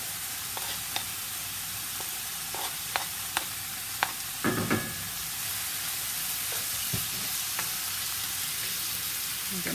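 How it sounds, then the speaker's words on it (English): Steak with half a white onion and garlic sizzling steadily in a pan, a bright continuous fry broken by scattered clicks and scrapes of stirring; no talking. "I'm gonna add half a white onion and some garlic"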